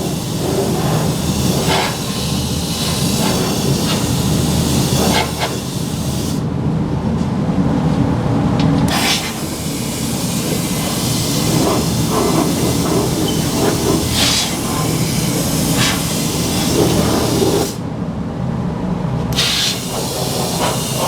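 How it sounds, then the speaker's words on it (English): A rust-proofing wand inserted inside a vehicle frame sprays in a loud, steady hiss that runs for about twenty seconds, with brief breaks and changes as the spray direction shifts. "We're going to insert the short wand, spray towards the front, spray up, spray back, and spray down."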